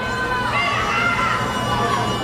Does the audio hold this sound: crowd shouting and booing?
yes